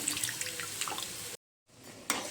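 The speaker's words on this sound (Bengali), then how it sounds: "ওটসে একটু জলটা বেশি দিই, একটু বেশি জল লাগে ওটসতে" Water is poured into a pot of vegetables and oats while cooking, a close, splashing stream that stops abruptly, then gives a brief final trickle.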